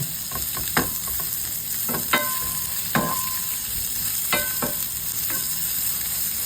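Onion, garlic and ginger sauté in hot oil for pangat sa sampalok, a steady close sizzle broken by several distinct scraping stirs of a utensil against the pan, with no talk.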